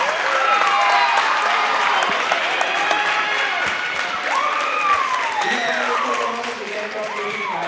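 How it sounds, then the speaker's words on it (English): Spectators at a men's college volleyball match between the SVU Knights and Arcadia University give a steady round of applause and cheering for the officials, while an amplified voice speaks over the crowd. "So can we please have one more round of applause for our officials this evening?"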